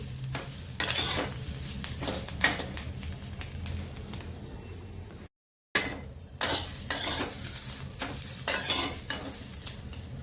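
Bell pepper (capsicum) roasting in a pan, with a steady soft sizzle and repeated scraping and stirring clinks of a utensil against the pan, close by, broken by a brief silent gap midway.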